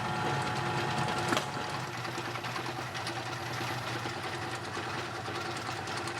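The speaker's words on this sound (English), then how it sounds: "A center drill was fastened in the tailstock and used to drill into the round bar." Steady mechanical whirring of a lathe with a center drill in the tailstock drilling into a steel round bar, a continuous close-up machine drone with faint rhythmic rattling throughout.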